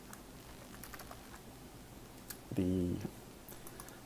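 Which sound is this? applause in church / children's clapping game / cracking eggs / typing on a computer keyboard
typing on a computer keyboard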